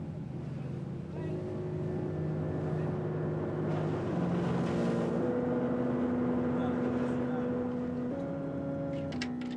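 A small 18-metre trawler, la Curieuse, motors at sea, its engine a steady droning hum with tones that step up and down in pitch, close and continuous for the whole stretch.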